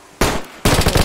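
Two loud, close gunshots from the survival game DayZ, the second rolling into a rapid burst of reports, each breaking sharply out of a quiet background.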